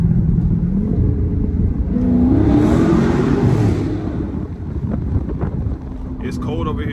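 A loud, rumbling straight-piped Dodge Scat Pack exhaust drones steadily up close, swelling briefly as the engine revs, with wind buffeting the microphone.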